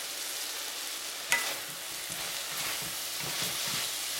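Stir-fry noodles with asparagus and broccoli sizzle steadily in a hot pan, with a sharp clack early on and soft scraping stirs later, close and fairly quiet, no talking.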